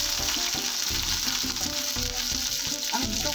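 Medium-sized bitter gourd pieces frying in hot oil, a steady close sizzle with crackling bursts and occasional stirring scrapes, no voices.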